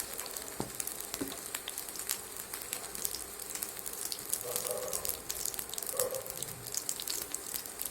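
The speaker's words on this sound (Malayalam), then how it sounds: "ഞാൻ ഇതിലേക്ക് കുറച്ച് കോക്കനട്ട് ഓയിൽ ഒഴിച്ച് കൊടുത്തിട്ടുണ്ട്. അതിലേക്ക് 1 ടീസ്പൂണോളം കടുക് ഇട്ട് കൊടുക്കാം." Mustard seeds frying in hot coconut oil in a pan give a steady sizzle with scattered sharp pops and crackles, close and fairly quiet, with no talking.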